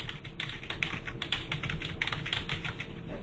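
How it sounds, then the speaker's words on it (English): Rapid clicking of keys on a computer keyboard, a busy irregular patter of typing close by, fairly quiet, with no talking. "Can you hear us typing away?"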